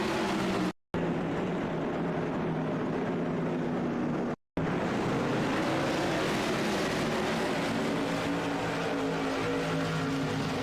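Modified race cars in the iRacing Modified Series at New Smyrna roar as a steady, dense engine drone that stays loud and unbroken apart from two very brief dropouts.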